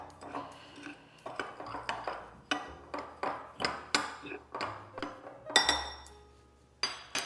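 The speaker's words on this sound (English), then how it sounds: "we're just going to stir this together first before we incorporate our wet ingredients" A spoon stirs flour and flax meal together in a bowl, giving a regular rhythm of clinks and scrapes about twice per second, close and fairly quiet.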